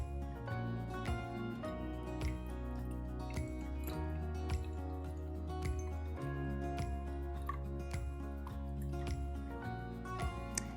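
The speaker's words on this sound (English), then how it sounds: "adding the distilled water to a heat resistance beaker" Distilled water is poured into a heat-resistant glass beaker while making a hair mask, with a continuous liquid splash and scattered small clinks and drips close by.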